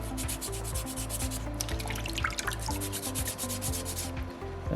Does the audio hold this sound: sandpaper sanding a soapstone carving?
yes